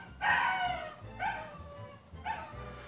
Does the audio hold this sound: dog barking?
yes